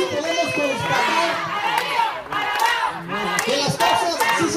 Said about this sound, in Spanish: ¡Aplausos para esta obra realizada!